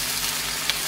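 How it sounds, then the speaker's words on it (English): Canadian bacon sizzles in a frying pan, a steady close hiss of frying meat with no talking. "in my frying pan, I'm gonna go ahead and take some Canadian bacon"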